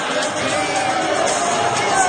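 At a high school basketball game, the gym crowd lets out a sustained, rumbling groan of disapproval after a foul call, steady and broad with scattered voices within it.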